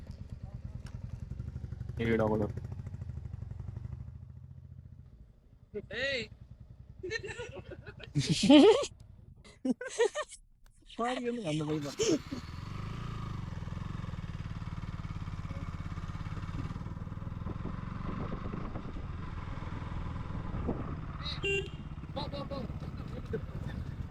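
A motorcycle engine idles and runs with a low steady rumble, loudest at the start and again later, while people talk and laugh over it in the middle.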